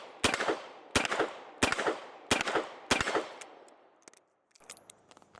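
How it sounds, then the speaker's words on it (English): Korth Ranger revolver firing 9mm rounds double action, five sharp loud reports spaced about a second apart, each with a ringing decay, followed by faint metallic clicks and handling noise. "Let's go ahead and take some double-handed shots, 9mm double action."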